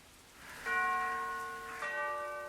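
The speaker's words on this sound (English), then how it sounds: "I'd better ring the bell." A mansion doorbell in the horror video game Arkham Horror: Mother's Embrace rings out as two clear, resonant chime tones about a second apart, each ringing and slowly fading in a quiet room.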